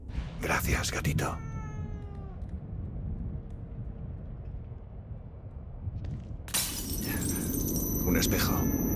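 A cat in the horror game The Evil Within 2 meows in a short run of rising cries, close and clear, set between bursts of game noise, with a sharp crash near the end.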